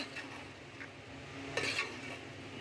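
Payesh being stirred in a pot, a quiet, close scraping and swishing with a faint sizzle underneath and a brief clink of the spoon against the pot partway through.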